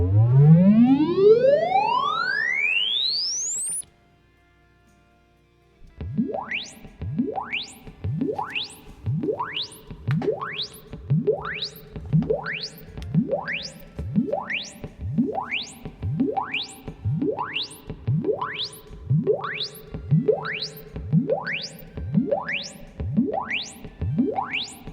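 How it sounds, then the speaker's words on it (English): An Ampero 2 amp modeler's self-test: a rising electronic sweep tone, then a steady series of repeating rising chirps, about one per second, loud and alone with no talking. "So you hear the test now. System is self-testing itself."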